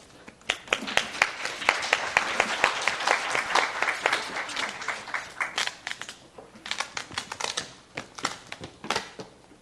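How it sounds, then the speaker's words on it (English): Audience applause welcoming a professor to the stage at a global health and welfare forum in Taiwan, a burst of many hands clapping that thins into scattered separate claps before fading. "So let's welcome Professor Masahiro with a big applause."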